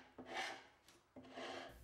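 A sanding pad scrapes across a wet, painted wooden dresser in two quiet, rasping back-and-forth strokes with a short pause between them.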